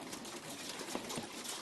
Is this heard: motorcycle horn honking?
no